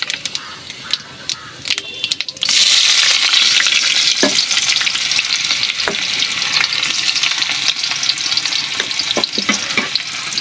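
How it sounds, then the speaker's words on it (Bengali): Five-spice tempering (panch phoron) dropped into hot oil in a wok in a home kitchen. A loud, steady sizzle bursts up suddenly and holds close by, with occasional utensil clicks and no one talking. "এখানে কড়াই বসিয়ে দিয়েছি, তেল গরম হয়ে গেছে, দিয়ে দেবো 5 ফোড়ন।"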